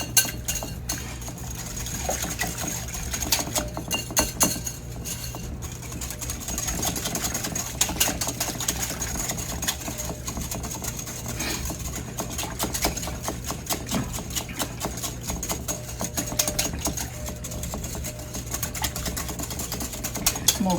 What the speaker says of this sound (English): So that's just vanilla right there we just put in, and I'm going to whisk that up.